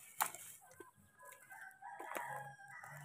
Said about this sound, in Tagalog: Kalat yung mga manok dito wild talaga.